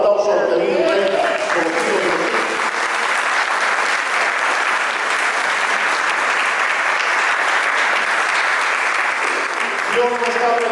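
A church congregation applauds steadily and loudly for the whole stretch, a thick continuous roar of clapping with faint voices and cheers mixed in, tapering slightly at the very end.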